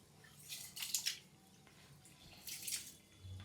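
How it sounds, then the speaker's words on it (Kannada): Rice washed in water in a pot makes quiet sloshing and swishing in two short bursts, with soft drips and squishy stirring between them. "ಚೆನ್ನಾಗಿ ಈ ಥರ ನೀರು ಸ್ವಚ್ಛ ಆಗೋವರೆಗೂ ಚೆನ್ನಾಗಿ ತೊಳಿಬೇಕು ಒಂದು 2-3 ಸತಿ."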